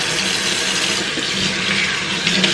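Tap water runs steadily and loudly over a freshly cleaned squid, rinsing away its ink in a continuous, close-up splashing rush with no speech.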